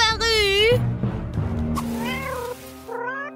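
A cat meows repeatedly, loud and close, its tonal cries rising and falling, heard alongside people speaking French.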